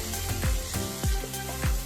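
Cashews, about 15 to 20 soaked in hot water beforehand, fry in a pan for paneer butter masala, with a continuous close sizzle and recurring low swooshing pulses like stirring.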